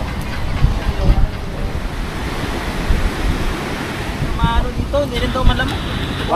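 Strong wind gusting across a beach by the sea, a constant roaring rush with surf-like swells and buffeting against the microphone, with faint voices and a few higher tones underneath.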